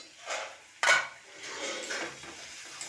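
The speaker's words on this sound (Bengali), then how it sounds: "শাকটাকে দিয়ে এবার নাড়িয়ে নিচ্ছি" Greens with potato and eggplant stirred in a pan for a Bengali kulekhara shaak recipe cooked in fish oil, with soft scraping and clinking of a utensil against the pan over a faint frying hiss.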